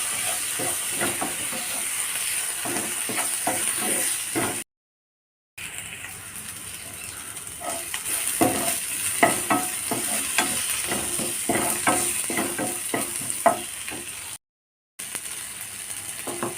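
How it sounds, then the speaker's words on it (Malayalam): Tomato sautéing in a pan with oil for a fish chilli curry gives a steady sizzle and hiss under frequent scraping and stirring clicks. Two brief silent gaps break it. "ഒരു തക്കാളി ഇട്ട് കൊടുക്കാം കൂടി നന്നായിട്ട് വഴറ്റെടുക്കാം"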